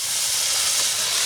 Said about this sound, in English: Do a little water. I'm going to steam these